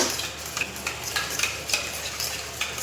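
A spoon briskly beats two spoonfuls of sour yogurt in a bowl, giving quick, repeated scraping and clinking strokes in an irregular rhythm, close and moderately loud with no talking.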